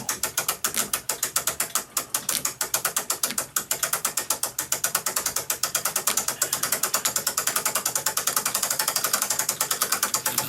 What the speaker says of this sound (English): We're going to reverse the winder, and we're going to let the spring down